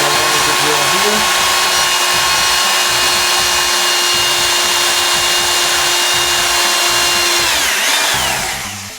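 Power drill whirring steadily at close range as it bores into the corner of a wooden canvas frame, one long continuous run that winds down at the end.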